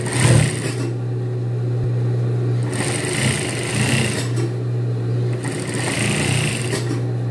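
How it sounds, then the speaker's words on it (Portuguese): A sewing machine stitching a seam on a men's shirt, running in a steady loud whir with brief pauses and restarts, with no talk. "vou fazer isso aqui, vou costurar."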